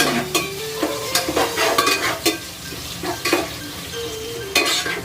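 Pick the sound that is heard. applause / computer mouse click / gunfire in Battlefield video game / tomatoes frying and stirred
tomatoes frying and stirred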